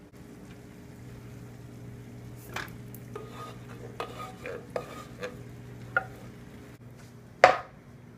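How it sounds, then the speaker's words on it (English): Canned baked beans going into a pan of ground turkey and kielbasa, with soft plops, scraping and clinks of a utensil against the pan over a steady low hum, and a sharper clatter near the end. "to the ground turkey and the kielbasa, I'm going to add 1 can of baked beans"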